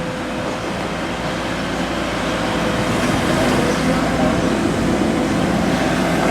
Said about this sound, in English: Right, that's our next train now, Swansea 13:32